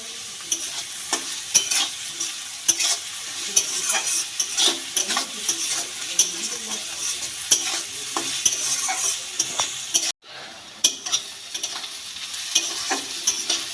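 Chopped onions with a pinch of salt fry in a pan for dhaba-style egg tadka. A soft continuous sizzle runs under repeated close scraping strokes of a spatula, with a brief dropout near the end and no speech.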